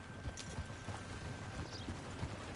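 A small pony's hooves clip-clop in Red Dead Online, a steady run of light, close hoofbeats over a constant background hum.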